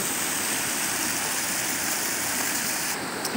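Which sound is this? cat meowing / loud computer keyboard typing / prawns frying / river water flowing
river water flowing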